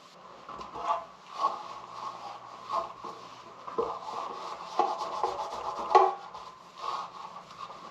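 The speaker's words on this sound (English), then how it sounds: "you just wipe it on and then wipe it off like a wax" A cloth wiping polish across a painted part of a Honda CL350 motorcycle in Candy Panther Gold, with soft, close rubbing strokes coming in repeated bursts.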